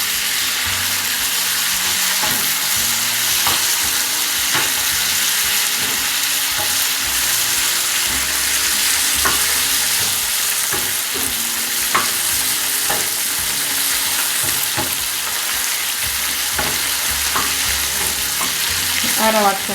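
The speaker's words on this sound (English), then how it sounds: "So the onions are well cooked at this point. So at this point we add our tomatoes." Tomatoes sizzle and fry in a pot with well-cooked onions, a steady hiss broken by repeated scraping stirs of the spoon, close and continuous with no talking.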